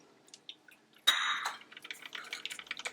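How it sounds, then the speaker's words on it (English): Coffee dripping in the background of a kitchen during lunch preparation: soft, faint ticks and small drips, with a brief louder splash or rustle partway through, no talking. "You can hear the coffee in the background."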